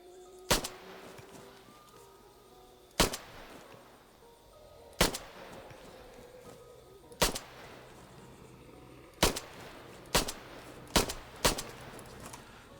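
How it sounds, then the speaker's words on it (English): Single gunshots from an ArmA 3 zombie mission ring out sharply, about nine spaced shots with the last few quicker together, over a quiet background. "I'm gonna have to turn and shoot."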